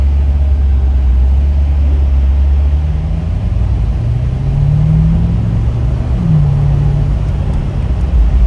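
A BMW M8 drives along with a steady, loud engine rumble and road noise inside the car, the engine note rising and shifting slightly through the run with no talk.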